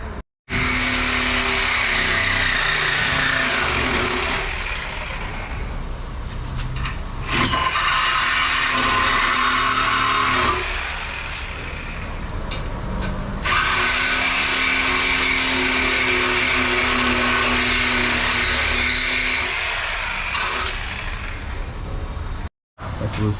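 Stinger with its stock exhaust and X-pipe running, a steady engine drone with revs rising and falling in a couple of longer pushes, loud and near, cutting off briefly at the end.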